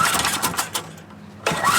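A Briggs engine on a Coleman generator, choked, tries to start: two close, loud bursts of pull-start cranking and sputter separated by a short lull, without catching.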